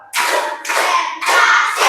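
A classroom of pupils claps hands on a teacher's count, four loud bursts of group clapping in an even rhythm, close and full.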